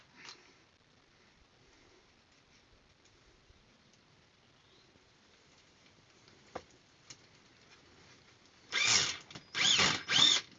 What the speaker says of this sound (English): I'm being very careful not to, what do you call it, drill too deep